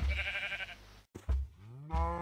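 Cows moo in the Minecraft video game, giving a few short, low moos in quick succession, close and fairly quiet.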